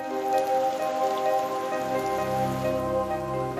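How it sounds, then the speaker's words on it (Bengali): Monsoon rain in northern Bengal falls steadily on a surface. It makes a continuous, even hiss at moderate loudness, with a sustained tonal hum layered over it and no voices. "বৃষ্টিতে ভিজছে উত্তর"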